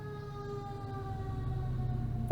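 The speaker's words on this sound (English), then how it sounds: "Fire engine, everybody. Probably coming to our complex as usual." A fire engine siren wails steadily with sustained tones, fairly close and loud, with no talking.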